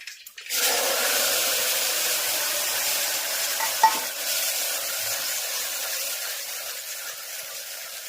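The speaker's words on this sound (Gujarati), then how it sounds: "અજમાનો વઘાર ગુવારના શાકમાં." Mustard seeds, cumin and ajwain hit hot oil as a tempering for a cluster bean curry, a loud sudden sizzle that holds steady and slowly fades, with a brief clink partway through and no talking.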